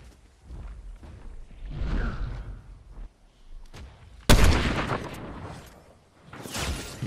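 Sniper rifle shots in a Fortnite match, a sharp loud crack with a boom near the middle followed by shorter bursts of gunfire and whooshing game effects, with no talk over it.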